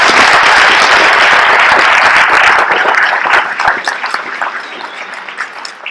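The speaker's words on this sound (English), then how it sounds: "Can we give them all a round of applause?" An audience at a Utah State School Board candidate debate applauds with dense, sustained clapping that fills the room, then gradually thins and fades toward the end.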